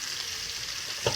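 Paneer frying in butter in a home kitchen pan, a steady close sizzle and crackle throughout, with a brief louder spatter near the end.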